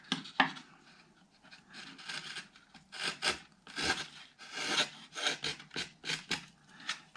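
Hand-carving the wooden top braces of an acoustic guitar, a steady series of close scraping, rasping strokes on wood, rising and falling in short bursts with no talking.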